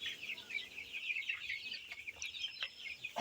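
Tiger chicken chicks on a farm, a dense, steady chorus of high peeping and soft clucking with no pauses, close and fairly quiet throughout.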